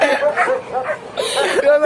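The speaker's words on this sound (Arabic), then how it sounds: "هو الكلب ده اهو، راي اللي عامل لنا المشاكل كلها." A dog barks a few times close by at a salt-flat site, mixed in with people talking and chuckling over it.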